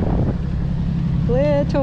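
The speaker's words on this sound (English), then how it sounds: "it's really windy up here." Steady wind buffets the microphone high above the water while parasailing at Punta Cana, a continuous low roar with voices speaking over it and a brief tonal sweep near the end.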